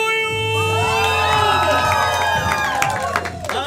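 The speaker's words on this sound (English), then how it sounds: "and the crowd goes wild!" A comedy club crowd at First Coast Comedy's main event cheers and whoops loudly, with scattered clapping and excited shouts mixed into a steady, close roar.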